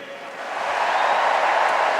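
Spectators at a Commonwealth Games 2014 men's T54 1500m wheelchair race cheer and applaud, a broad roaring swell that builds from moderate to loud and holds steady, with no clear talk above it.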